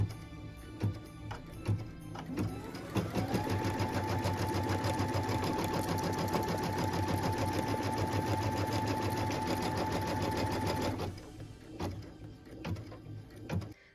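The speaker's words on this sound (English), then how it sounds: "we can stitch the placement line for the last piece of felt, which is for our letter L bobble" A sewing machine runs continuously for about eight seconds, stitching a placement line on felt for a Noel ornament letter L, its steady motor whir and rapid needle rhythm up close, with light handling clicks before and after.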